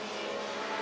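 Historic racing cars, including the Derrington Francis ATS, roar past on a circuit, a steady loud engine drone held through the whole short moment with no voices.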